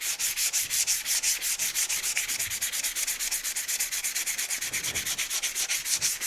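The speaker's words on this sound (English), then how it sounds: "Got some fine grit sandpaper here." Fine grit sandpaper is rubbed over the starter solenoid of a Yard Machines MTD riding lawn tractor in quick, rhythmic back-and-forth strokes, close and steady, with no voices.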